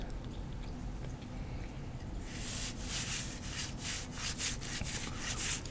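Scratched epoxy being sanded off a coaster surface, faint at first, then quick close rhythmic scrubbing strokes, soft but crisp, with no talk.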